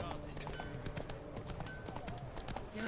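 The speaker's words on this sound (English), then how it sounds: "Cruising down the street on my horse Roach." Hooves of the horse Roach clip-clopping along a city street in The Witcher 3, a steady rhythmic trot under game ambience and music, with a voice talking over it.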